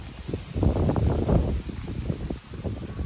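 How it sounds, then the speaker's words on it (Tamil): Wind blowing across a vegetable garden, a steady buffeting rush against the microphone with gusts rising and falling over a few seconds. "காற்று அடிக்கிறது இல்லை காற்று"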